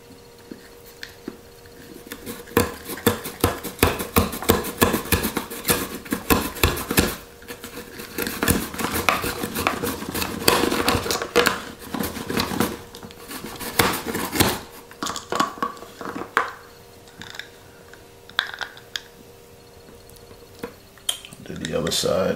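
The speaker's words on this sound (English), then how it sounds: "Finally, we have our cucumber. Add on my slicer piece, and we're gonna get the slicing." A cucumber sliced on a Nicer Dicer Fusion slicer gives rapid, dense clicking and plastic-and-blade scraping strokes in close bursts, pausing briefly midway and then trailing off into scattered handling knocks, with occasional talk.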